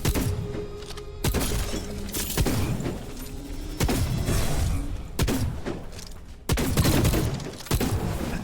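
Rapid, loud gunfire in a shooter video game as an enemy gets lit up, dense crackling bursts broken by several sharp impacts and shattering hits, continuous across the whole stretch.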